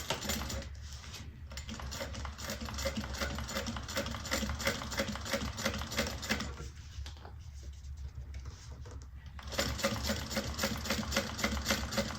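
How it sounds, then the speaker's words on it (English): A sewing machine runs in long, fast bursts while top stitching a seam 1/8 inch onto a side panel, the needle chattering rhythmically up close with two short pauses between runs. "then we're going to top stitch onto the side panel 1/8 of an inch from the seam"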